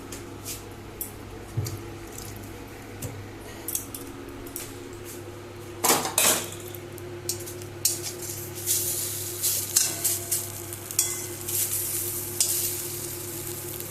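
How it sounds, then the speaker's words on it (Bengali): Egg toast mixture being stirred in a hot frying pan, with a steady sizzle, scraping utensil strokes against the pan, and occasional clinks, close and fairly loud. "এবার এইটাই আমি নাড়িয়ে দেবো।"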